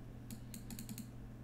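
A short run of about six crisp computer keyboard key clicks as a hotkey is pressed, quiet and close over a steady low electrical hum.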